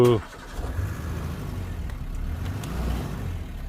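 Safari Gypsy jeep engine idling low and steady after a brief rough start, stuck in gear and going neither forward nor back, with faint voices under the rumble.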